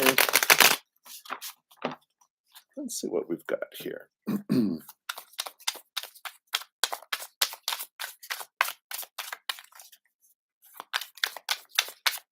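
Tarot cards shuffled by hand during a live reading, a long run of quick crisp riffling clicks and flicks close to the mic, with brief talk at the start.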